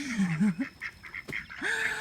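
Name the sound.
ducks quacking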